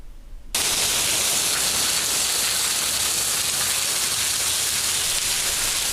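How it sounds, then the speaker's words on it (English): Heavy rain pours down on asphalt in Elk Grove, Northern California during a storm, a loud, steady broadband roar that starts abruptly after a brief quiet moment and holds constant throughout. "rain has been drenching several parts of our region"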